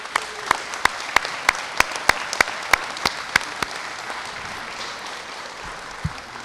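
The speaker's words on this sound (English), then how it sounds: "I think gets them another round of applause" Scattered hand claps from a small outdoor crowd honoring construction workers at a mayor's transportation levy event, a dozen or so distinct sharp claps in loose rhythm that fade out, over steady background noise.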